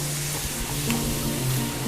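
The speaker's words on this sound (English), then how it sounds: "The onions looks nice, so we'll add the celery to it." Onions and celery frying in a pan, giving a steady close sizzle with soft stirring scrapes and a low hum underneath.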